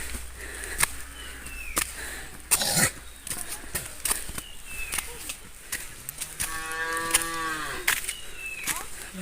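A buffalo lets out a drawn-out moo outdoors, moderately close, amid scattered clicks, knocks and faint background noise.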